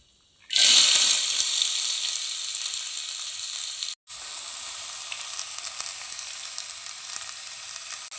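Mustard seeds, chana dal and curry leaves hit hot ghee with a sudden loud sizzle that stays strong and steady, broken by one very brief gap, close with no talking.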